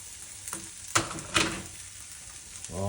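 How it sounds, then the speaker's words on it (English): Peppers and onions frying with potatoes in a pot in a small kitchen give off a soft, steady sizzle, broken by a few brief clatters and stirring bumps. "So I think first I'll do the peppers and onions and throw them in with the potatoes."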